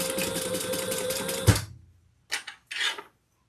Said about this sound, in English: I'm just going to sew those closed.